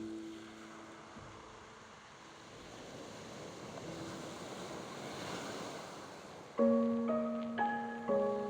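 Ocean waves wash against the shore at Bakauheni harbour in South Lampung, a continuous rolling surf with wind noise, joined late by a series of loud, sustained tonal blasts like a ship's horn.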